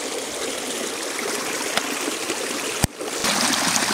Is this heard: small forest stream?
yes